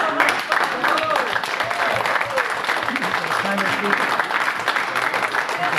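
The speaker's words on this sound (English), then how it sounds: "Let's give a round of applause." An audience at a Toastmasters speech contest breaks into a round of applause, with dense, continuous clapping and faint voices mixed in.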